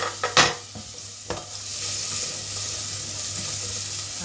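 Chopped onion frying gently in a pan, a steady soft sizzle after a couple of brief clattering knocks at the start, close and continuous with no talk.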